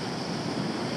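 Ocean surf in Hawaii roars steadily, a dense continuous wash of breaking waves and spray with some wind noise, loud and close.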